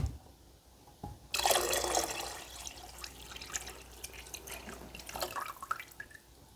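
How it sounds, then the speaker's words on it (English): Heated water is poured into a pot of cheese curds while making Camembert-style cheese, a sudden splashing gush that settles into steady trickling and dripping, close and fairly quiet, with no talking. "Now let's add that heated water to the curd pot."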